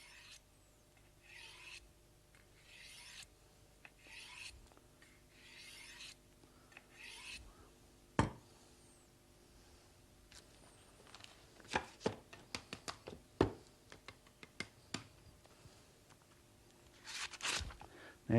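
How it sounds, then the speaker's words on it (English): A knife blade drawn across a sharpening surface to hone its edge, heard as a series of soft rhythmic rasping strokes followed by sharper scrapes and clicks, close and quiet with no talk. "just increase it slightly more and hone your edge in"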